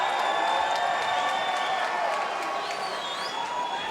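Arena crowd at a Power Slap super heavyweight event cheering and applauding steadily, a dense roar of claps and whoops that stays loud throughout and eases slightly toward the end.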